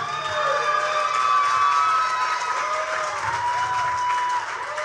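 A concert audience at an anniversary show claps and cheers loudly, dense applause with whoops and rising shouted cheers running throughout before trailing off at the end.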